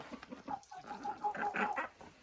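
Domestic hens clucking in a backyard coop, a series of nearby rhythmic clucks with a drawn-out broody call running through, fairly close and alone without talk.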